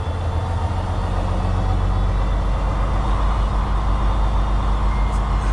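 A diesel truck engine idles heavily and then climbs in speed as the throttle is pushed forward, a loud, low, steady rumble that thickens and holds at a higher pitch, without any talking.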